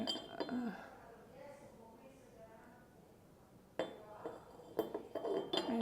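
Porcelain dishes and lids from Ginori 1735 in Florence are stacked, producing a few faint, light clinks near the end under a person talking quietly.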